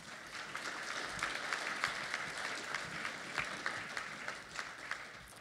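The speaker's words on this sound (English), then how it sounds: "Let's give them a round of applause." An audience applauds panelists after an evening event, a sustained, dense wash of clapping that holds steady and fairly loud throughout, with no talk over it.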